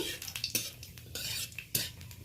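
Black cumin seeds are stirred in a pan for a tempering. Quiet, irregular clinks and scrapes of a spoon against the pan sit over a faint background hiss.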